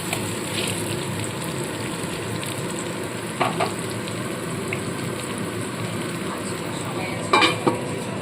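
Potatoes frying in oil in a covered pan, a steady, even sizzle that holds throughout, with a few brief clinks of a lid or utensil near the middle and end.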